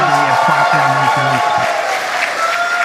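Crowd cheering and applauding at the Polaris Dawn splashdown, a dense wash of loud clapping and shouts that continues throughout, while someone talks over the start of it.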